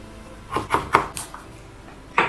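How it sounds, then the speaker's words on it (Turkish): A knife chops potatoes on a cutting board in a home kitchen, with about five crisp, fairly close strikes in quick succession and no talking. "Şimdi patateslerimizi doğramaya devam ediyoruz."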